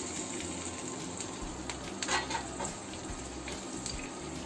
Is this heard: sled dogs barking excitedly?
no